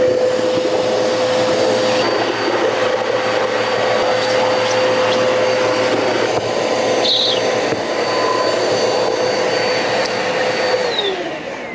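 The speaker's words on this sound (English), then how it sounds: "While you are vacuuming, that brush will always be spinning." A Eureka Powerspeed NEU280 vacuum cleaner runs steadily with its brush roll spinning, a loud continuous motor whine and airflow roar holding nearly level throughout, with no talking.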